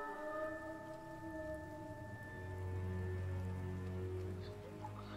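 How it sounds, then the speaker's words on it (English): Rain falls in a film scene as a faint, steady patter beneath sustained, low, tonal musical drones. "It started raining, right?"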